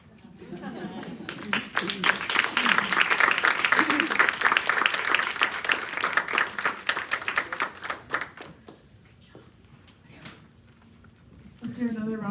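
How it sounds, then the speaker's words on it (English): Applause from the audience for the readers at a senior memoir workshop in a Jewish community center, a dense burst of clapping that swells, holds for several seconds, then thins out to scattered claps before voices resume. "Let's hear another round of applause for all of our readers"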